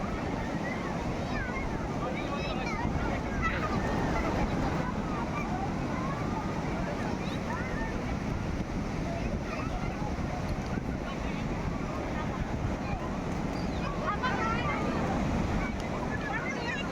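Waves roll onto Juhu Beach in Mumbai in a continuous, even wash of surf, mixed with wind buffeting the microphone.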